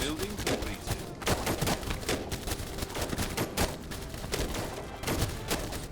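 Wasp units in They Are Billions firing at a zombie horde, rapid crackling bursts of gunfire overlapping in a dense, continuous volley that stays loud throughout, with faint talk underneath.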